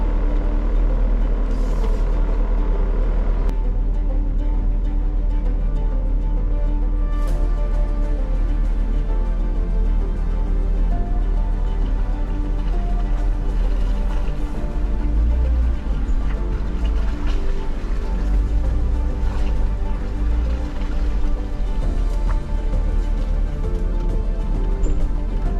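Jeep crawling over an off-road obstacle on a narrow, muddy, off-camber track at a jamboree in Mole Lake, Wisconsin, with a steady low engine rumble throughout and surges of deeper revving in the second half.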